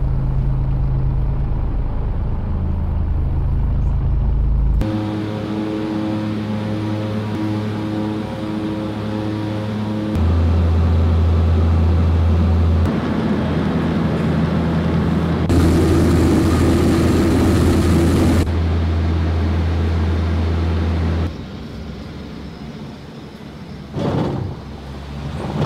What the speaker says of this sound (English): this is just a clip of us taking off from Danmarkshavn